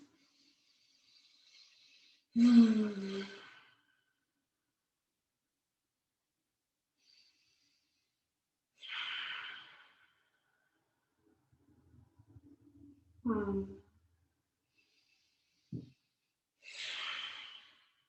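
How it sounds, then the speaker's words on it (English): Yoga ujjayi breathing in and out through the nose in a flow class, several slow audible breaths spaced a few seconds apart, close and fairly soft against near silence. "And still breathing in and out through your nose, so still using that ujjayi."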